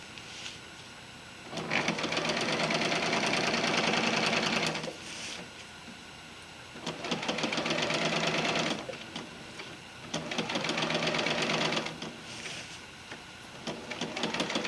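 A sewing machine stitches an underquilt in three long runs of about three seconds each, with quieter pauses between them. The whirring is steady and close, and no one speaks.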